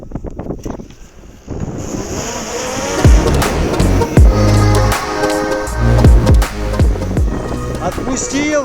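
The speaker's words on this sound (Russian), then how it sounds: "Отпустил, дрон улетел" A Hubsan Zino 2 Plus drone is released from the hand in strong wind, its motors whining steadily as they spin up, with heavy wind buffeting the microphone throughout.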